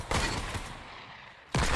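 Short bursts of Fortnite gunfire crack at the start and again near the end, with a noisy lull between them.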